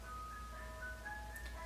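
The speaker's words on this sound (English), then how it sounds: "Can you guys hear the ice cream truck?" An ice cream truck jingle plays faintly outdoors, a thin melodic chime line heard at a distance over low rumbling background noise.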